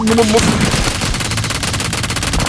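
Rapid automatic gunfire rattles loud and continuous in the shooter game PUBG Mobile, dense repeated shots filling the whole stretch with brief game effects at the start.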